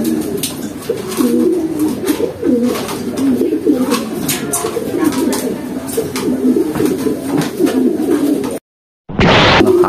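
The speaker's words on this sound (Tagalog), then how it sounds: "Actually, mailap tong kalapati na to eh." Pigeon cooing in repeated low rounded calls, steady and close, with scattered bird chirps over outdoor ambience before a brief silence and a sudden loud noise.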